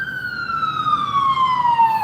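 An ambulance siren wails outside in a steady tone that slowly drops in pitch as it passes, fairly loud over low road rumble, with no talking.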